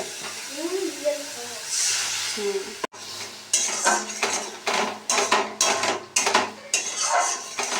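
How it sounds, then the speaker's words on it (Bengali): Spice masala for egg curry is sautéed in a pan, with repeated close scraping strokes of a spatula over a low sizzle, and a voice speaks briefly at the start. "মশলাটা একটু ভালো করে কষিয়ে নিচ্ছি"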